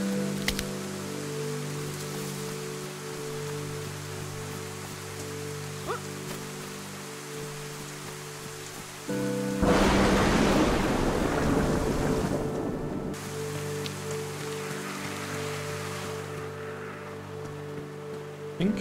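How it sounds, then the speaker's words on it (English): Steady rain in the survival game DayZ at night, a constant hiss that swells louder and brighter partway through before easing back, with no voices. "Spawning in the rain,"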